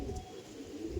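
A pair of kalshira pigeons coo softly and steadily, with low murmuring calls close by and no voices.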